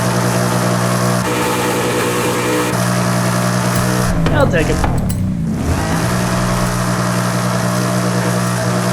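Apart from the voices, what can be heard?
car engine in Forza Horizon 5 video game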